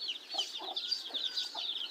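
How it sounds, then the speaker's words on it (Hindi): Chickens clucking in a farm yard as they are let out on an overcast, rainy day, a steady stream of overlapping clucks and chatter close by, no talk. "अब मुर्गियों को खोलते हैं।"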